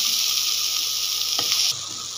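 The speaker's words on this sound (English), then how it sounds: "add tomato chopped and again fry well till the tomatoes become soft" Chopped tomatoes sizzle steadily in a hot pan for a masala dish, a close, continuous hiss that briefly swells with a stir and then settles slightly quieter.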